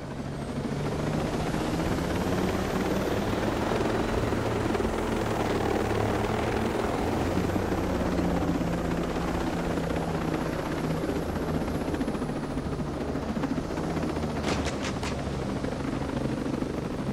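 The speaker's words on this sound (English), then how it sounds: "Thought I would land the helicopter" A helicopter in the video game Ghost Recon Breakpoint flies at night, its rotor and engine drone loud and steady throughout with no talking.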